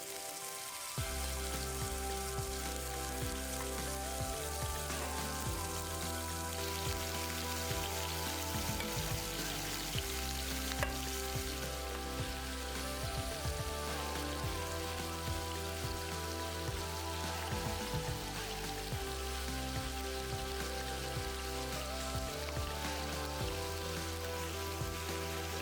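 Marinated paneer pieces fry in hot oil in a pan over a medium flame, giving a steady, soft, rain-like crackle that carries on without voices for the whole stretch.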